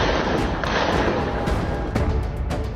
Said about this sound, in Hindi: सैकड़ों की संख्या में उपद्रवी गोलियां चलाते हुए सड़क पर नजर आए।